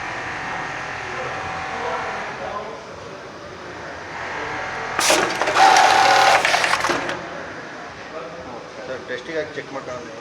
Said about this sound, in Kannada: ಆ ಕಡೆ ಈ ಕಡೆ ಸ್ಟಿಚ್ ಆಗಿ ಸೆಂಟ್ರಲ್ಲಿ ಬಾರ್ಟ್ಯಾಕ್ ಆಗುತ್ತೆ.